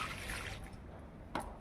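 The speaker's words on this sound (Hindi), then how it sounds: "अब मैं इसमें वाटरिंग करूंगी" Water poured onto dry soil while watering a potted plant in a small-space combination flower arrangement, giving a steady soft trickle with a brief louder splash near the end.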